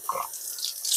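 A kitchen tap runs steadily into a sink while a lemon is washed under it, a close, splashing stream of water lasting about a second.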